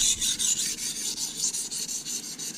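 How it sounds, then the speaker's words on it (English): A chef knife scrapes back and forth on a Norton Crystolon combination oil stone in quick, even rasping strokes, a close, steady rhythmic grinding with no talk. "sharpening a knife"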